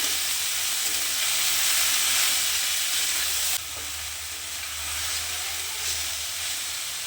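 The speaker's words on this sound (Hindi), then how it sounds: "सब्जियों के साथ मैंने बंद गोभी को भी 2 मिनट भूना है" Cabbage and mixed vegetables stir-fry in a hot pan for spring rolls, giving a steady, loud hiss and sizzle that eases slightly partway through, with no voices.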